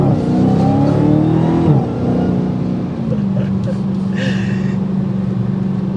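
A 2023 Dodge Challenger Hellcat Jailbreak accelerates hard, its loud, close V8 roar climbing in pitch before a gear change. The engine then settles into a lower drone, with a brief higher whine near the end.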